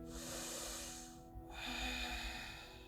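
Deep breath drawn in during a yoga sun salutation sequence, a steady airy inhale lasting about a second, pausing briefly, then continuing as a second breathy draw, close and quiet with no talk.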